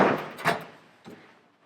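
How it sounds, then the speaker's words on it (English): A hammer strikes a punch set on a steel block while marking holes during a 1927 Ford Model T roadster hot rod build, giving three sharp, close metallic knocks, the last one lighter. "I'm gonna hit the punch with the hammer."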